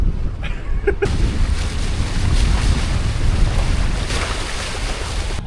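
A boat under sail on open water, with steady wind rush and water noise continuing throughout, loud and close, plus a few brief knocks near the start.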